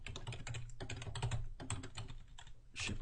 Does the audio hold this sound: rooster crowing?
no